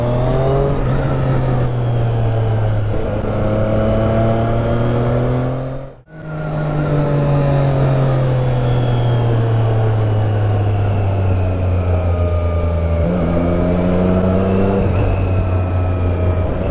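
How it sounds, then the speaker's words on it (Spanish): A Triumph Street Triple RS motorcycle rides in second gear in sport mode, its engine droning loud and close as the pitch climbs and falls through the revs, with one brief cut in power partway through. "Estoy haciendo todo este tramo en segunda, en modo sport"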